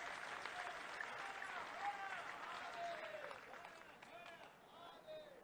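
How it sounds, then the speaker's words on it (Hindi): Audience applause at a political rally with a state chief minister and ministers present, a steady wash of clapping from a large crowd lasting throughout, with faint voices and distant tones mixed in. "जोरदार ताली बजाएं"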